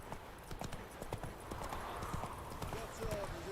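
Roach, a horse in The Witcher 3, gallops with steady clip-clop hoofbeats under continuous game dialogue and background ambience.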